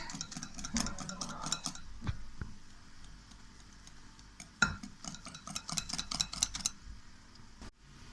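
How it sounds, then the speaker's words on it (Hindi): Cocoa powder and flour stirred together for a chocolate cake batter, with a utensil scraping and ticking against the bowl in fast irregular strokes, broken by a couple of louder knocks. "अच्छी तरह से कोको पाउडर भी, फ्लोर भी मिक्स हो गया"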